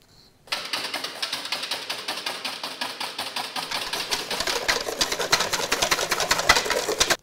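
An electric mixer whips egg whites with sugar, starting abruptly and running as a fast steady rattling whir with a regular pulsing beat, close and loud throughout.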